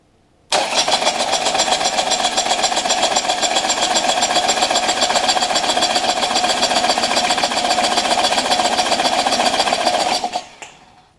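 Engine cranking steadily on the starter during a compression test with low readings of about 45 psi, a fast even rhythmic churn running continuously for about ten seconds before stopping abruptly.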